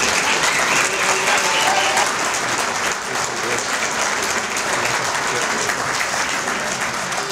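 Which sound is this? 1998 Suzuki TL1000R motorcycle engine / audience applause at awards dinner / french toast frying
audience applause at awards dinner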